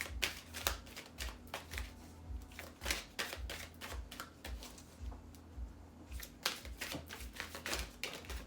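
Tarot cards are shuffled close up in quick bursts of crisp riffling clicks and flutters, a few clusters separated by short pauses, quiet and alone.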